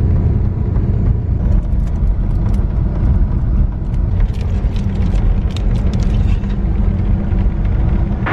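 Coach bus cruising on an Irish road gives a loud, continuous low engine and road rumble from inside the cabin, with faint rattles and ticks over the drone.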